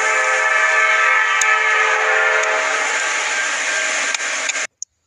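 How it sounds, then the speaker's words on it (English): A CSX freight train passes nearby, its loud, continuous rumble and roar filling the air without a break before cutting off abruptly near the end. "it is a CSX train"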